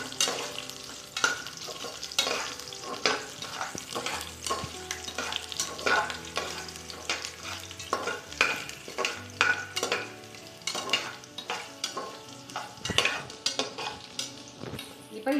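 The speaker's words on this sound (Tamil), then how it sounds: "இதிலேயே வந்து இந்த இஞ்சி பூண்டையும் போட்டுடலாம். இது கொஞ்சம் வாசனை வதங்கினதுக்கு அப்புறம் தான்" Ginger and garlic fry in a pan for white veg pulao, a continuous sizzle broken by frequent rhythmic spatula scrapes and knocks against the pan, close and clear.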